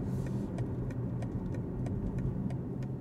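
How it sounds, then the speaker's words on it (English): A regular clicking turn-signal tick repeats roughly every third of a second inside a 2025 BMW X6 M Competition, heard over a steady low engine and road rumble while driving. "Important things, like the turn signal sound,"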